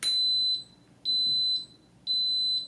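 Three loud, high electronic beeps from an Instant Pot Duo Mini electric pressure cooker sound at an even pace, each held about half a second, with quiet gaps between them.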